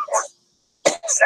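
A pipe smoker coughing hard after tobacco that creeps up on him, two close, harsh bursts split by a short silence, loud and dry with a throaty rasp.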